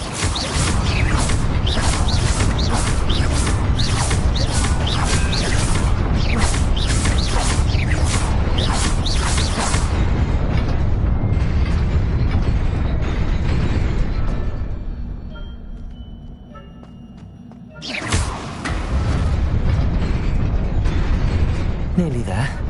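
A fire spell cast in Hogwarts Legacy on PS5 erupts as a loud, sustained roaring burst with crackling mechanical rumble, fading to a quieter lull before another sharp flare surges back up.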